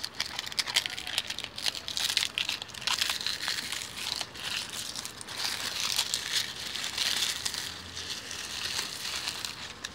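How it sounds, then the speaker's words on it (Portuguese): Close, continuous crinkling and crushing of leafy plant material, crackling steadily with small bursts throughout. "Ela está verde, mas quando é amassada, olha o barulho"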